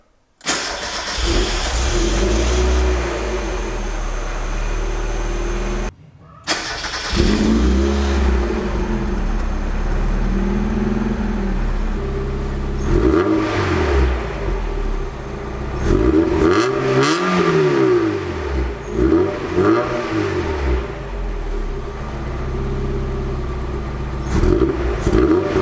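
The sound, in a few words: Mazda MX-5 car driving around the block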